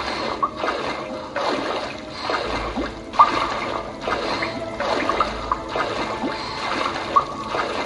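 Water splashing in an audio video game as a character swims through a dark area, rhythmic sloshing strokes repeating about once a second, with occasional drips and a low ambient hum underneath.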